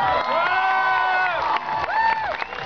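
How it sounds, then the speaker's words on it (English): A graduation ceremony crowd cheers and whoops, with shouting voices rising and falling in wavering pitches, lively and close. "How about a big round of applause for them?"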